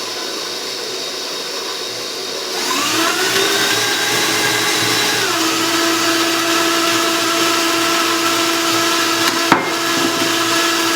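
An electric mixer beats cheesecake batter with an added egg. After a quiet start the motor whirs up loudly and holds a steady, close hum, broken once by a sharp knock.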